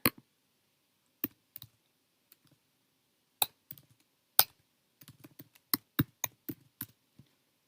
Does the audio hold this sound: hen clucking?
no